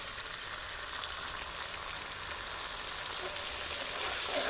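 Water and sauce poured into a hot frying pan while cooking crispy pork with holy basil: a loud, steady, hissing sizzle that swells gradually, with no talk over it.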